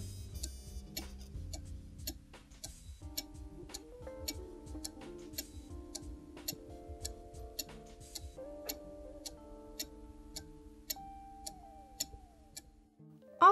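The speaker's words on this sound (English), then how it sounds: "the tick-tock sound of the pendulum is regular" A wall-hung cuckoo clock's pendulum ticks steadily in a regular tick-tock, crisp evenly spaced clicks repeating alone over a faint low background hum.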